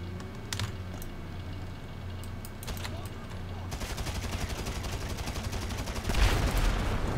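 Rapid machine gun fire in GTA Online during a solo super yacht mission, a dense sustained burst of rattling shots that starts abruptly and keeps going to the end, after a few scattered single shots.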